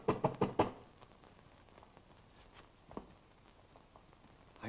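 Knocking on a door in a 1933 film: a quick series of four or five sharp raps close by, followed by quiet room tone with a couple of faint later taps.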